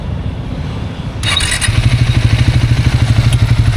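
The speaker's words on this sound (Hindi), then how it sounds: "तो चलिए एक बार इंजन नॉइज़ आप लोगों को जो सुना देते हैं कैसा है इंजन नोट आफ्टर 2000 किलोमीटर्स" Triumph Speed T4 motorcycle engine idling after a cold start: a steady, close low-pitched thumping pulse with rapid regular firing beats and faint mechanical clatter, alone without talk.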